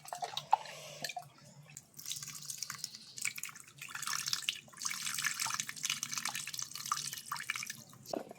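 Tamarind water pours into a pan for a Kerala-style fish curry, giving a splashing, trickling liquid sound with scattered drips that swells and continues close by.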